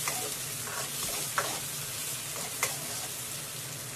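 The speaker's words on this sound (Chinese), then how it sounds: "葱姜蒜炒出香味之后，放入青红椒再炒几下" Green and red peppers stir-fried with scallion, ginger and garlic in a wok, a steady oily sizzle with a couple of sharp clinks of the spatula, no voices.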